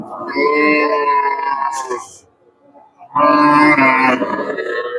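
Two long, loud moos from a two-toothed bull nearby at a cattle market, each lasting about two seconds, separated by a brief quiet pause.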